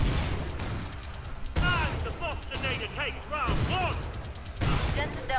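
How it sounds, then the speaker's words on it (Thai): Gunfire and explosions in the Killing Floor 2 zombie shooter: dense, overlapping bursts of shots and blasts fill the whole stretch, with whistling projectile sounds, while someone talks excitedly over the action. "ยิงระเบิดเป็นบั้งไฟ"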